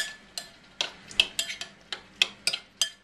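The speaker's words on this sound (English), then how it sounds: "And then what we're going to do with a spoon, we're going to just mix it all together." A spoon mixes chopped chilies and tomato puree for a burger and salad topping, giving close, repeated clinks and scrapes against the bowl roughly every third of a second, with no talking.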